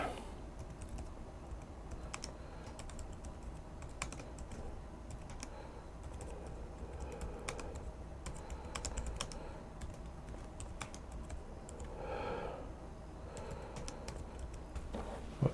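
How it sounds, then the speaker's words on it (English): Steady, rapid typing on a wireless backlit keyboard, soft clicks at a close distance continuing throughout with brief pauses, quiet background hum. "now I've hooked it up to the computer through a dongle"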